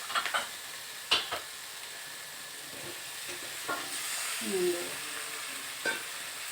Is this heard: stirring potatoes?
yes